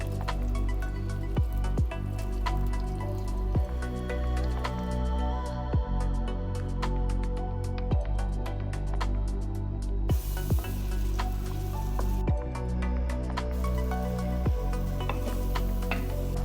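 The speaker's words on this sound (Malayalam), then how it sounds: "ഓയിൽ ചൂടായതിന് ശേഷം നമ്മൾ നേരത്തെ ക്രഷ് ചെയ്ത് വെച്ച് അനിയൻ മിക്സ്ചർ ക്ലേ പോട്ടിലോട്ട് ആഡ് ചെയ്യുക." A crushed onion mixture hits hot coconut oil in a clay pot, giving a close, continuous sizzle and crackle with scattered sharp pops and drips, recorded up close in a quiet kitchen without speech.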